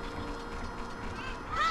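Cuccos clucking and squawking in The Legend of Zelda: Ocarina of Time, a steady honking, goose-like game call with a rising squawk at the end, playing alone.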